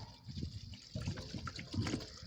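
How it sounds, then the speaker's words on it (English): Water runs into the pipes of a newly installed water tank with a faint, close gurgling and trickling that pulses unevenly over a couple of seconds. "I can hear the water going, guys."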